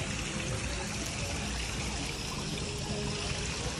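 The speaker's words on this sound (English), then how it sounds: "Look at this waterfall." A decorative waterfall trickles inside a store, a steady, fairly loud wash of running and splashing water filling the space with no break.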